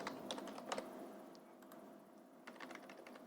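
Quiet typing on a computer keyboard during a school lab activity, with irregular clusters of soft key clicks, a pause, then another short flurry of keystrokes.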